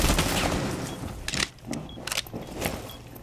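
Gunfire in the video game Rainbow Six Siege comes as a burst of close, sharp shots, with a few more crisp cracks scattered through the next couple of seconds.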